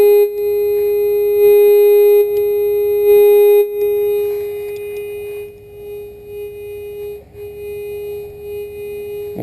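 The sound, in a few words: Whites metal detector tone during ground balancing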